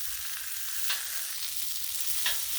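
Tri tip steak searing on a Blackstone griddle, a loud, continuous hissing sizzle with a couple of brief swells as the meat is shifted, close and without talk.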